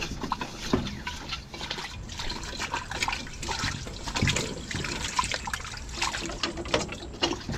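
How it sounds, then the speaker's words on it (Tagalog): A frying pan is rinsed and washed with water on a farm, with continuous splashing and trickling close by and irregular scrubbing and clattering bursts throughout. "Hugasan itong kawali."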